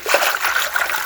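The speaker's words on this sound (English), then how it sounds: "give my hand a bit of a rinse" Water trickling and dribbling over a hand during a quick rinse outdoors, a steady close splashy flow lasting about a second with no talk.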